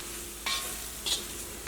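Chilli powder roasting in hot oil for a bitter gourd pickle gives a faint, steady sizzle, broken by three brief scraping stirs of the spoon at even intervals.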